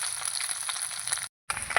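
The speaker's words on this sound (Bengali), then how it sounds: "মাছগুলো খুব সুন্দর করে কড়া করে ভেজে নিতে হবে" Fish sizzling crisp in hot oil, a steady close frying hiss with bright crackle that cuts out briefly before resuming.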